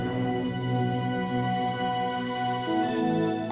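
Sustained keyboard chords in a mix, brightened with SSL and API EQ boosts and widened in stereo, playing steadily and evenly throughout with a chord change near the end and no talking.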